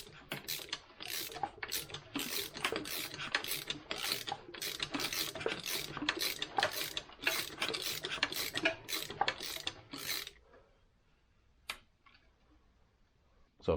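A 2023 Kawasaki KLX300 engine turned slowly by hand through full revolutions, giving a dense run of rapid ratcheting mechanical clicks and rasps for about ten seconds, then falling to near silence with a couple of isolated clicks.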